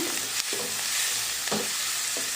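Onions frying with turmeric and salt, a loud continuous sizzle close by, broken by several scraping stirs of a spoon through the pan.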